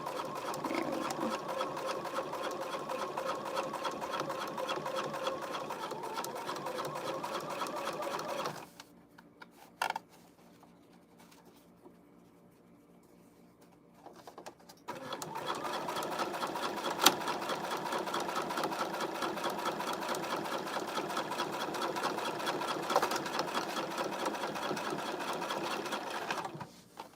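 A sewing machine stitches a knot headband in rapid, steady mechanical bursts, runs for about eight seconds, pauses with a few clicks and handling sounds, then resumes stitching steadily to the end.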